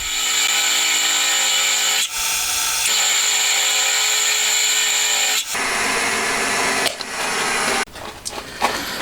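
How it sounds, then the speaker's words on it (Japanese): A milling machine cuts metal with a side cutter, making a loud, steady whine and grinding. It pauses and shifts now and then as it takes small passes. "結局横刃を使って少しずつ削っていくという方法に落ち着いてしまいました"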